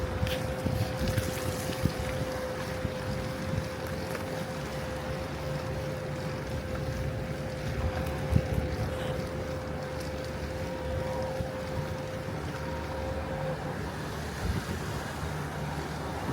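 A car driving southbound on Gulf Boulevard along the Pinellas County beaches, a steady rumbling road and engine drone with heavy wind buffeting the microphone and a faint constant tone throughout.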